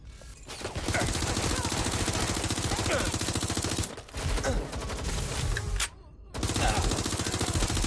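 Sustained rapid machine-gun fire in a PS4 shooter, loud bursts of dense automatic shots broken by two short pauses, with a few other sounds under the fire.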